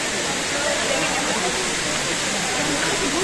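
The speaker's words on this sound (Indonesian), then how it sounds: "Saya penasaran melihat air terjun yang utama ya." A waterfall roars as a loud, steady, broadband rush of falling water, close by and constant through the whole stretch, with a voice faintly beneath it.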